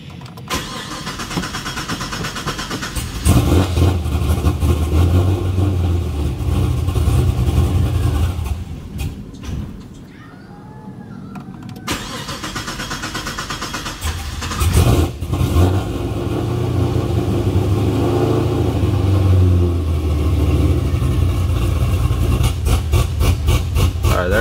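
A cammed Pontiac GTO 6.0L LS2 V8 cranks and catches, then revs and runs loud for a long stretch, briefly dropping away before roaring again and settling into a rough idle.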